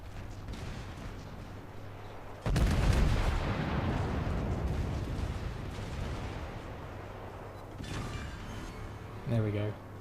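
Heavy battleship main guns firing shells in the video game World of Warships, Tirpitz: a sudden loud booming salvo erupts and rolls on as a long rumbling tail, with lighter mechanical clanks and another thump near the end.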